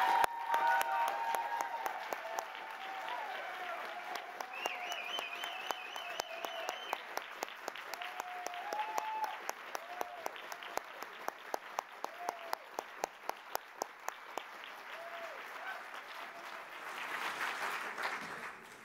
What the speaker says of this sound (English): give the loudest, biggest, noisiest standing ovation to our Dean